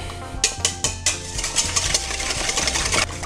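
A whisk beats ingredients in a bowl in a home kitchen, giving quick rhythmic clinks and scraping strokes against a steady low motor-like hum, close and fairly loud.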